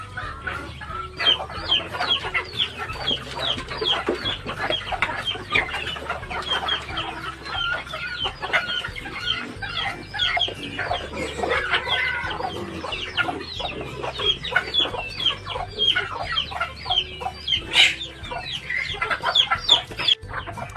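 A large flock of upgraded native chickens being fed on a farm: dense, continuous clucking and squawking, close and loud, with occasional distant crowing and no clear talking.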